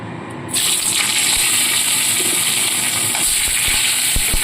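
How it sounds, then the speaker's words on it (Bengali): Cauliflower florets dropped into hot oil and frying, with a sudden burst into a loud, steady, hissing sizzle that holds throughout, with a few soft pops near the end. "এবার যে তেলটা রয়েছে সেই তেলের মধ্যে বাকি কপিগুলোকে ছেড়ে সেগুলোকে ভেজে তুলে নেব"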